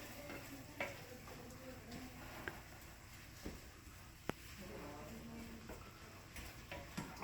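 Sausage frying in a pan for a quick dip, a steady soft sizzle with occasional sharp clicks and stirring taps throughout.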